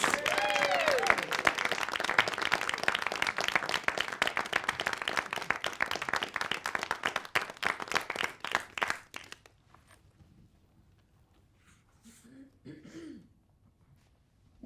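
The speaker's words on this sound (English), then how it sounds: "a big round of applause to Anne" Audience at a talk applauding a speaker, a dense burst of clapping for about nine seconds that then stops abruptly, leaving a quiet room with a few coughs and throat clears.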